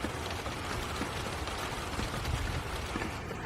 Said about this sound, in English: Rain's picking up since I started.